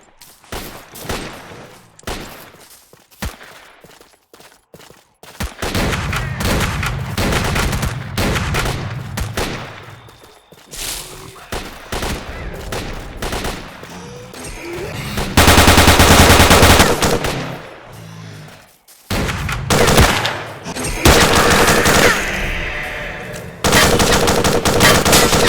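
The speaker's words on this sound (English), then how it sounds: "Check your weapons and fire at will." Loud, sustained automatic gunfire in S.T.A.L.K.E.R. Call of Pripyat, dense rattling volleys broken by brief lulls, running almost continuously through the firefight.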